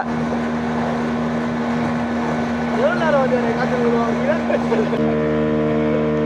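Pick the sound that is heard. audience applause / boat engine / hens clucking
boat engine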